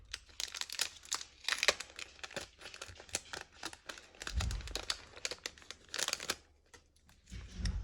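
Paper bunting phrases from a road-trip craft collection being handled, with quiet, close crinkling, rustling and crisp paper snaps in irregular bursts, plus occasional soft low thumps.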